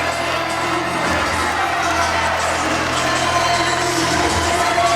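Fans at a boxing fight night cheer wildly for Ollie Edwards, a steady, loud, unbroken roar of shouting voices filling the arena.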